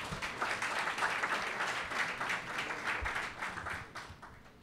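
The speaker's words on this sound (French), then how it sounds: "Vous pouvez applaudir pour lui." An audience at a gala evening breaks into sustained applause, a dense, even patter of many hands filling the room at moderate loudness with no clear speech over it.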